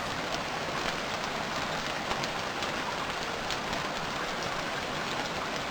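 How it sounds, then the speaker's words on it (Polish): Heavy rain in the video game Stranded Deep pours continuously, a loud unbroken hiss of drops spattering on surfaces throughout, with no voices. "pierwszy raz mam deszcz, jest bardzo głośny z tego co słyszę"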